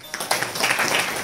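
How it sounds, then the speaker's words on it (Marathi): Village audience members at a Santaji Jagnade Maharaj birth-anniversary kirtan clap together, producing a brisk, dense burst of hand claps that swells quickly and stays even to the end. "मी तुमच्याकरता एका जोरदार टाळ्या वाजवतो."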